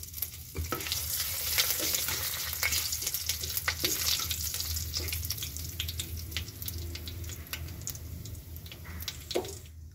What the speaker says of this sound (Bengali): আমি এখন ফোড়ন দিয়ে দিচ্ছি, তেজপাতা, দুটো শুকনো লঙ্কা আর 5 ফোড়ন।